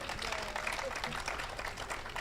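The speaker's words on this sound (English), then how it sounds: "Give a round of applause for this man's birthday." Audience applause at an 80th birthday celebration at a resort, a steady patter of clapping that stays even throughout, with faint voices murmuring beneath it.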